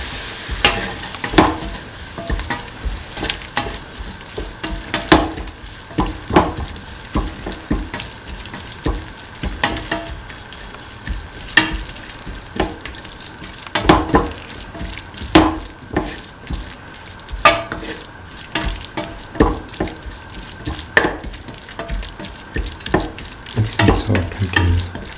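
A spoon stirs a potato, chickpea and coconut milk stew in a pan, giving repeated wet scraping and sloshing strokes over a steady simmering sizzle.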